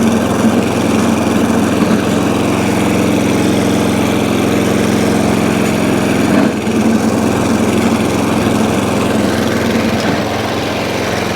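ATCO Balmoral cylinder lawnmower with a newly replaced ring gear, its small petrol engine idling steadily and loudly up close, a constant unbroken drone with no talk.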